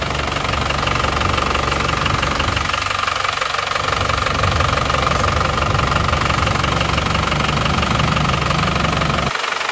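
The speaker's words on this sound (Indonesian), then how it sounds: "Cek dulu sebelum dibongkar bagaimana kondisi mesin ini." Isuzu Panther diesel pickup engine running cold, with blow-by, oil loss and smoke, giving a steady, loud knocking idle close by that lasts throughout and cuts off at the very end.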